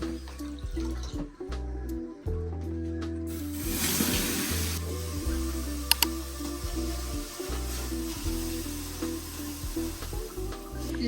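Water poured onto hot sauna stones in a treehouse cabin bursts into a loud hissing sizzle midway, fading back over a steady tonal background hum.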